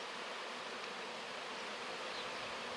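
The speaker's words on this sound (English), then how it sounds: "I think there's a swarm of bees or wasps." A swarm of bees or wasps around a nest in a tree on a Hampshire country walk, a dense steady buzzing that fills the air continuously, with no voices.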